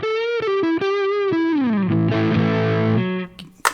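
An electric guitar on its neck pickup plays through a Havok Elektronix FO-2 FET overdrive pedal, giving a warm, mildly distorted tone. A short run of single notes leads into a held, slowly fading chord, played close and alone.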